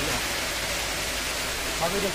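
A steady, soft hiss of light drizzle falls continuously, even and close, with no other sounds standing out.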